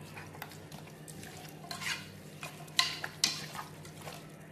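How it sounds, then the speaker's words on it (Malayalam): Beef being mixed by hand with coriander powder and salt in a bowl, giving soft irregular stirring scrapes and a few sharper clinks near the end over a low steady hum. "ഇനി നമുക്കിത് നല്ല പോലെ ഒന്ന് മിക്സ് ചെയ്തെടുക്കാം"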